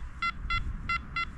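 A Nokta Multicruiser metal detector gives four short, evenly spaced bright beeps of its signal tone over low background noise.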